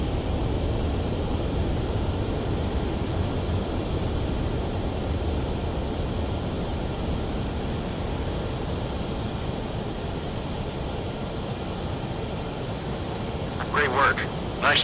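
A fighter jet making a visual landing in the PS4 game Ace Combat 7: Skies Unknown gives a loud, steady engine roar and rushing air throughout, with a brief higher whine near the end.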